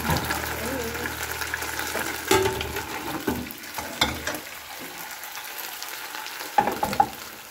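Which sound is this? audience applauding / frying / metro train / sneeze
frying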